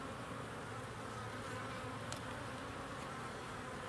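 Honeybees around an open hive while comb is cut make a faint, steady buzzing drone, dense and unbroken throughout, with no voices.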